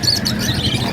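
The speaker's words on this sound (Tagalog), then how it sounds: "makikita na natin yung mga ibon na paninda nila" Birds for sale at Bocaue pet market, including budgies, chirp in quick, busy high tweets over a dull market hum, with a crowd of small calls close by.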